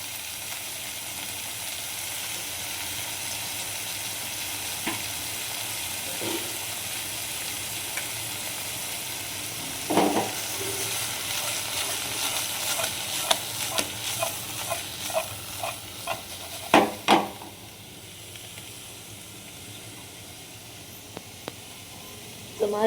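Garlic frying in hot oil, a steady hissing sizzle that swells midway as stirring begins, with quick scraping clatters of a spoon against the pan before it settles again.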